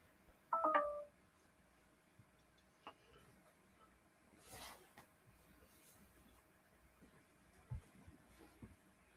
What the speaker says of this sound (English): Had to turn my phone down. Sitting over here beeping, making noise at me.